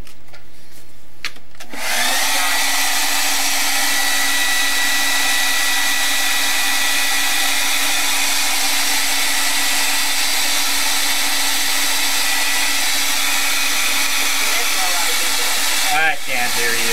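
A hair dryer starts after a brief pause and runs loud and steady, a continuous broadband whoosh held close for about fourteen seconds while blowing on wet acrylic paint, then clicks off at the end.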